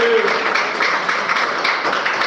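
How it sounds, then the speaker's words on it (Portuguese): A church congregation claps steadily in praise of Jesus, a thick continuous patter of many hands filling the room with a faint voice beneath. "Exalta o Senhor com palmas bem alegres para Jesus."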